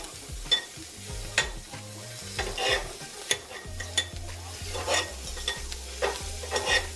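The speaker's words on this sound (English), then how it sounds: "I just threw it in this egg pan" Breakfast leftovers warming in an egg pan on a mobile home stove, with a steady soft sizzle beneath repeated scraping and stirring strokes that come in irregular bursts close by.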